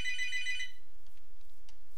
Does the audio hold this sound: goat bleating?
no